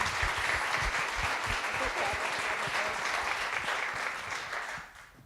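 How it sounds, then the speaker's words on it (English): Audience applause for a panel of women at an International Women's Day discussion, a dense sustained clapping crowd that holds steady, then thins and fades near the end. "can we just have one more round of applause for that amazing panel of women?"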